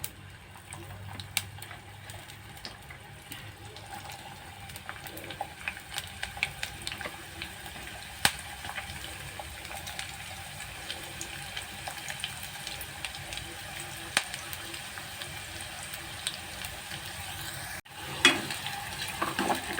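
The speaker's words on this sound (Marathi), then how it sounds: "कांदा आणि कढीपत्ता चांगला भाजून घेऊया." Chopped onion and curry leaves fry quietly in hot oil in a pan, a soft continuous sizzle with light stirring knocks and scrapes throughout and a sharper clatter near the end.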